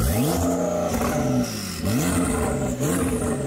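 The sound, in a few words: car engine revving, lake house car loudness comparison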